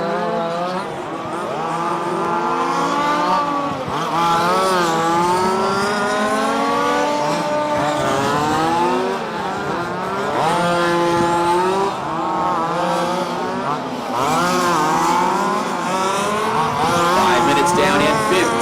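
Race cars lap a short race track, their engines droning and shifting pitch as they accelerate and pass in a continuous loud stream. A commentator talks over the engines throughout.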